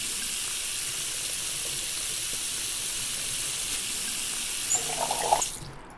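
In Cooking Simulator, water pours into a pot as a steady, even hiss of running liquid that holds on for several seconds before a few clinks and a brief swell near the end.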